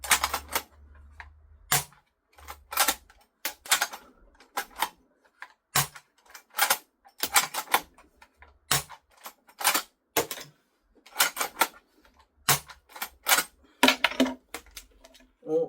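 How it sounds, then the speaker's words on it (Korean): An Academy KAR98K plastic toy bolt-action rifle fires and ejects shells, giving a run of sharp, close mechanical clicks and clacks in irregular bursts, with no talking. "자, 한번 배출되는 거 잘 보세요. 쏘고 배출."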